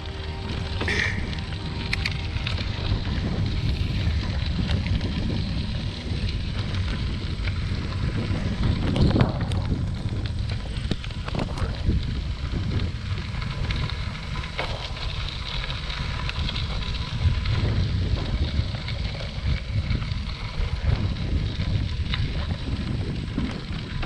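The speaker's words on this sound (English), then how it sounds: "Definitely riding into a headwind now." Strong headwind roaring across the microphone while cycling uphill on a rail trail between Uniontown and Connellsville in stormy weather, a continuous loud rushing buffet with gusty swells.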